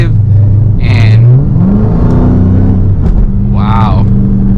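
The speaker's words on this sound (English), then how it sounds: "You can definitely hear the car winding. The supercharger is active" Supercharged Dodge Charger SRT Hellcat, 717 hp, accelerating on city streets: a loud engine rumble rising in pitch between shifts, with brief bursts of high whine, and a voice talking over it.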